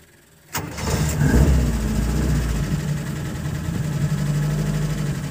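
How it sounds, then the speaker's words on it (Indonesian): A 1984 Suzuki Jimny Sierra SJ410Q engine cranks briefly and catches, then settles into a steady, close, rumbling idle that continues to the end, with no one talking. "Dan mesin langsung nyala."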